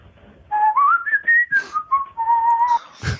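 A man whistles a clear, wandering tune up close, with gliding notes and short breaks, and no one talks.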